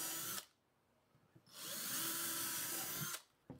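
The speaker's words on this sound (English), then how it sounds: "the wood will probably split if we don't drill pilot holes for them." Two loud bursts of a power drill boring into wood, a short one then a longer steady whine, separated by a quiet pause.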